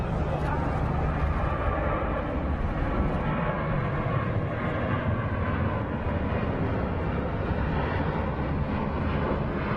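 Airbus A350 XWB jet engines give a steady, loud broadband roar with a low rumble, sustained without break.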